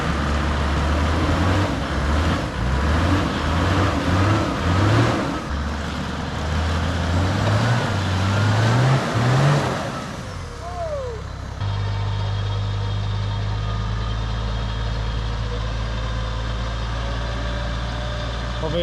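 Land Cruiser engine rumbling loudly at close range as it drives through mud, with repeated gear-shift rises in pitch before it settles into a steady low drone, and voices talking over it.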